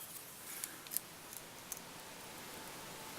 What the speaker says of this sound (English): transfer hands, snip it off